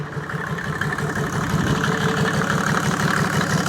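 A Mercedes OM606 diesel engine idles at about 750 rpm just after its first start, with a steady, close, rough mechanical clatter and a low rumble and no talking.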